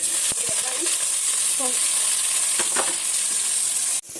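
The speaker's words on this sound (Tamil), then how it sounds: "எண்ணெய் நல்லா ஹீட் ஆனதுக்கப்புறம் கடுகு போடணும். கடுகு நல்லா பொரிஞ்சதுக்கப்புறம் சீரகம், கொஞ்சம் வெந்தயம், அதுக்கப்புறம் ஆனியன்." Mustard seeds, cumin, fenugreek and onion sizzling in hot oil, a dense steady hiss close by with a few faint clicks and taps, ending with a sharp knock.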